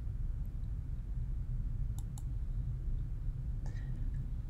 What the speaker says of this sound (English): I'm going to click on this folder icon.